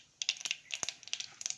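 Mustard seeds splutter in hot sesame oil in a clay pot, giving a quiet, quick series of sharp, irregular crackling pops with no talking.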